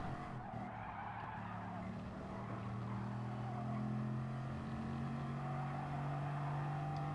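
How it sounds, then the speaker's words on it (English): Race car engine in Gran Turismo Sport, a steady sustained drone with rising and shifting tonal pitch and some tire noise, loud and continuous with no pauses. "I love the sound of this car so much."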